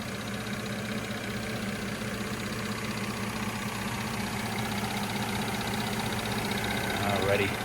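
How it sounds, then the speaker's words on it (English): A 2014 Mercedes-Benz C300 4Matic engine idles steadily with the hood open, a smooth even hum held close and constant throughout. "as you guys can tell, nice and smooth running engine"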